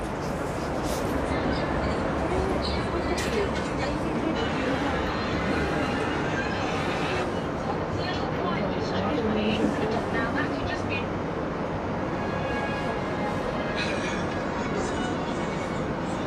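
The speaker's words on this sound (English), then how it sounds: "Roosevelt Island Tram." Ride aboard the Roosevelt Island Tram in New York, a steady loud rumble and hum of the cabin running continuously, with faint crowd chatter and background noise mixed in.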